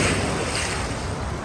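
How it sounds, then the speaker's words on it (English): Ocean waves at a Miami beach: a steady, full-band wash of surf noise with wind buffeting the microphone, continuous and fairly loud, with no talking. "the waves are just crashing down"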